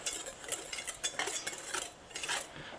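A spoon stirs hot spiced tea with clumped sugar in a cup, making close, quiet, irregular clinks and scrapes against the sides over a soft steady background.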